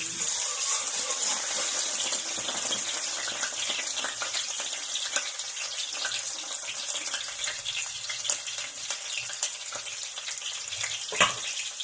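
Garlic fries in a pan for sautéed mung bean stew, a close, steady sizzle with crackling pops throughout and a sharp clatter of stirring near the end, without speech.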